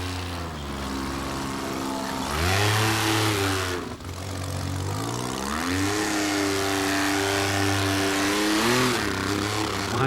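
A car engine revs hard and repeatedly during an off-road trial, surging and dropping between throttle bursts, close and loud, with the engine beginning to make faulty noises.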